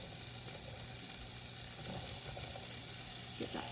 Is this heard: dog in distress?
no